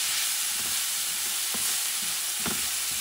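Rice and pork shoulder fry in a pan with a constant loud sizzle, and a few soft scrapes and knocks come through as the mixture is stirred around.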